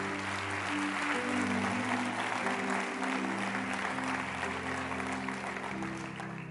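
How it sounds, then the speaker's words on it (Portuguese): A church congregation applauds loudly and steadily, a dense wash of clapping that holds over a sustained organ or keyboard chord and fades slightly at the end. "Você tem que aplaudir bem forte o Senhor."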